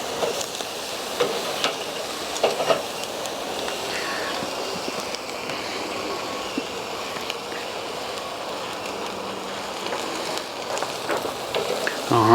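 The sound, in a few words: pork chops searing on an SnS kettle grill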